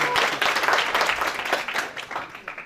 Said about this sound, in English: No, you have not clapped very well.